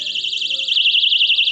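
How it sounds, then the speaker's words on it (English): A homemade pull-wire alarm rigged to an advertisement sign goes off, sounding a loud, continuous warbling electronic tone that holds steady without a break and carries on alone with no talking. "No one's gonna know they're pulling an alarm."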